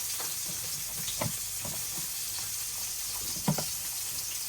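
Cauliflower and potatoes fry lightly in oil for a fish curry, making a faint, continuous hissing sizzle with occasional soft pops and clicks, heard close without any talking.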